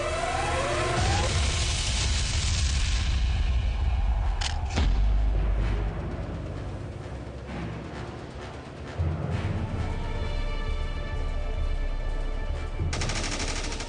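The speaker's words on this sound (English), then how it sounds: "Distant gunfire echoes through the peaks and valleys" Bursts of gunfire crack and rattle in the distance, sharp reports followed by rolling echoes, with a siren-like wail and low booms underneath.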